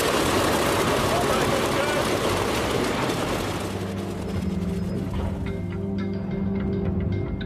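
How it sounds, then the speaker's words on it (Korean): Vought F4U Corsair aircraft engine cranking over and settling into a steady idle, loud and close, a dense roar that thins to a lower rumble; voices speak faintly beneath it. "Okay, go ahead and engage the starter"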